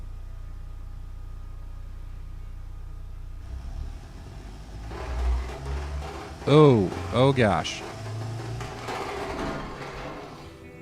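Simulated car engine in the Automation car tycoon game, a low idle rumble that rises into a louder, rougher running tone with knocking, while a person speaks briefly over it.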